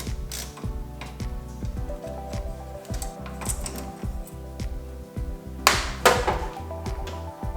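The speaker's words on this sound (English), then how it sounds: "Now 3 more screws to remove the headlight retaining ring." Screws come out of the headlight retaining ring on a Jeep TJ, most likely with a powered driver or ratchet. A fast, regular mechanical clicking whir repeats close by, followed near the end by a brief rattling clatter.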